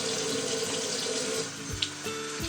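A bathroom tap runs steadily while a face towel is dampened under it, loud and close, with the flow shifting slightly near the end.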